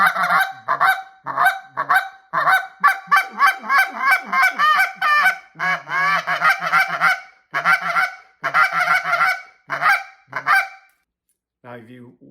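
A goose call is blown by a hunter, a run of deep, hollow honks in quick bursts with short pauses, loud and close, easing off into a few last honks near the end.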